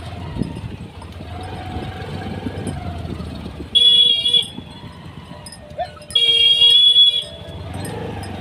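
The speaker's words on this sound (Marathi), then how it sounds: "हा मेंटल तिला हॉर्न देत आहे." A vehicle horn blares in two sustained loud blasts, the first about a second long and the second slightly longer, over idling engine rumble and street noise.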